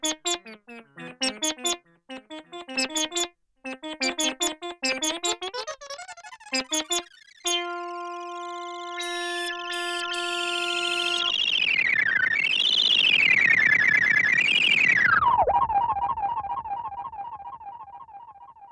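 A synth patch modeled on the Roland SH-101 monosynth plays through a modulated delay, heard alone. Short choppy notes give way to a held tone that swells and bends in pitch in loud wavering sweeps before settling into a steady buzzing drone.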